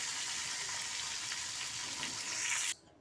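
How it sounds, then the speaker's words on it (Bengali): Dried fish frying in hot oil in a pan, a steady close sizzle that holds loud and even for almost three seconds and then cuts off abruptly. "মাছটা ভাজা বসিয়ে দিলাম।"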